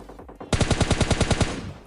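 AKM rifle fire in the video game PUBG Lite: a loud, rapid automatic burst of about a dozen evenly spaced shots lasting about a second, close and alone, with no talk.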